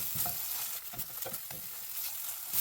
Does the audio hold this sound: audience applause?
no